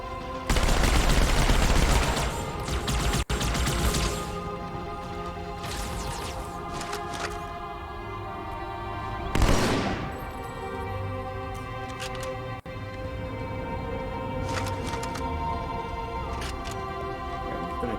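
Rapid submachine gun bursts from Halo 2: Anniversary, dense automatic fire opening loud and continuing in shorter volleys over a busy battle bed of effects and music.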